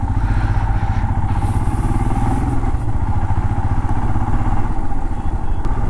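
Royal Enfield Himalayan motorcycle ridden on a hill road from Ghoom toward Mirik, its engine a steady, loud low thump throughout with a constant mid-range drone and no talk over it.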